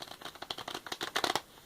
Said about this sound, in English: So we're going to give these other cards a bit of a shuffle.